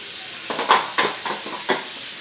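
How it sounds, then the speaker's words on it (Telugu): Food frying in a home kitchen pan is stirred with a utensil, producing a steady sizzle with several scraping strokes at close range and no speech over it. "ఇలా కలుపు, వంట కలుపు."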